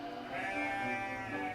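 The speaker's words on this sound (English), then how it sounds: "Come, sheep! Come, sheep!" A sheep bleats once, a close, drawn-out and fairly faint call lasting about a second and a half, with no talk over it.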